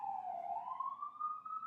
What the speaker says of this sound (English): I say fire truck because I'm hoping it's not an ambulance.